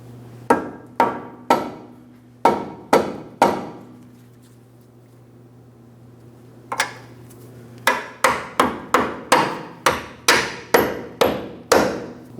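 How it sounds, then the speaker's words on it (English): A rubber mallet taps a lower control arm bolt into place on a Ford Transit 250: a handful of sharp knocks, a quiet pause, then a quicker run of repeated taps, close and clear. "A couple light taps with a rubber mallet if necessary."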